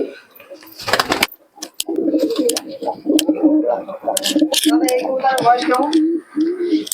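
Giribaz pigeons of an old line at a pigeon sale coo in soft, low, repeated murmurs close by, with someone talking over them in places and a brief burst of rustling near the start.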